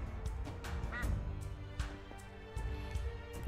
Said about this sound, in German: Ente, Ente, Ente, Ente.